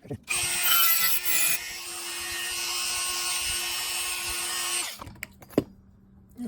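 A power tool whines steadily as it cuts out the center of a small metal click knob part for a Zebco 55 fishing reel, then cuts off abruptly and leaves a few light clicks and handling noises.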